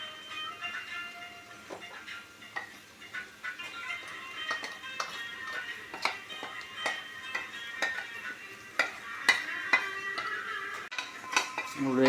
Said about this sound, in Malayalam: ഇത് നമ്മൾ വേവിച്ച് വെച്ച പച്ചക്കറിയിലേക്ക് ചേർത്ത് കൊടുക്കാം